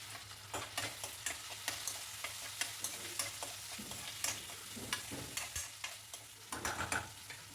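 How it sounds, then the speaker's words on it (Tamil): Onions and tomatoes are sautéed with curry leaves and green chili for a brinjal, drumstick and fish kuzhambu. A spatula stirs in quick, rhythmic scraping strokes over a continuous close sizzle, with no talking. "வெங்காயம்லாம் வதங்கினதுக்கப்புறம் தக்காளி சேர்த்து அதையுமே நல்லா வதக்கி விட்டுருங்க"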